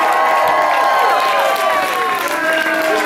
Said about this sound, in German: Mal einen Applaus für Friedemann.